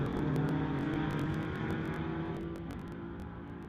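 A 1993 VW drag racing down the strip, with a steady loud engine drone that holds strong and slowly fades as it pulls away, with no talk over it.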